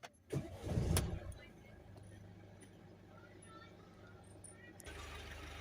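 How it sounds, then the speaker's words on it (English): A Mercedes C220 C-Class 2.1 CDi diesel, with its engine fault codes just cleared, cranks and catches in a brief loud burst, then settles into a steady, faint idle. "So we'll start the engine up and we should be all good to go."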